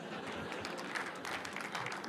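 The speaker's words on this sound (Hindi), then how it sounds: "ये जो बीच बीच में जोर से तालियां बज रही हैं ना" Listeners at a poetry recital clap in a steady patter that swells briefly in places, with faint crowd murmur underneath.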